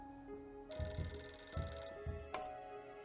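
A telephone in the video game Beholder 2 rings in short repeated bursts about every half second, clear and close, with no one talking.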